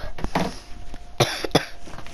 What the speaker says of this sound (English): I'm going to be coughing